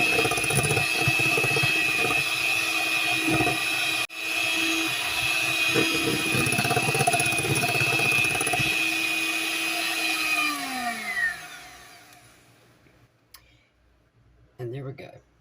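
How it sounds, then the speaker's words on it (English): An electric mixer on high beats a bread pudding mixture made with whole milk, a steady loud whirring drone that holds for about eleven seconds before winding down and stopping, then near silence with a brief clatter. "Beat it on high for as long as it takes to get creamy."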